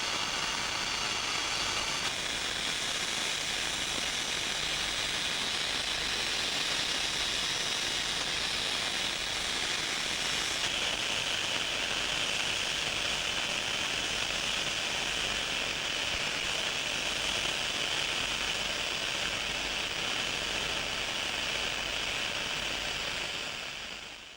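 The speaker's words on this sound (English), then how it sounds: "Once the boiler was empty, a compressor was used to expel all moisture" Compressed air rushes steadily through an emptied steam locomotive boiler on a 15-inch gauge railway, a loud continuous hiss that runs unbroken and alone for the full length, with no talk over it.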